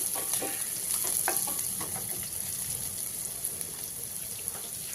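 Peanuts and finely chopped carrot fry in a pan for poha, a close, steady crackling sizzle with light stirring and scraping, and no voices.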